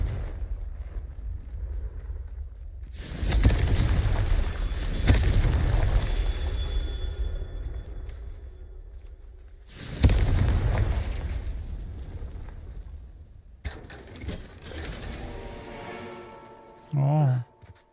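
Confringo fire spell blasts in the video game Hogwarts Legacy: two heavy booming explosions roughly six seconds apart, each with a long rumbling tail, followed by crackling spell effects and a short sharp burst near the end.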